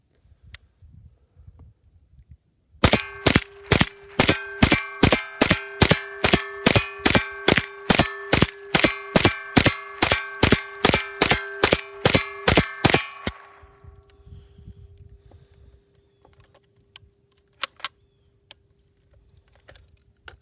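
A Ruger 10/22 rifle fires a rapid string of about thirty evenly spaced, loud, sharp shots through a Winchester 25-round magazine, with no pauses, followed by quieter handling clicks.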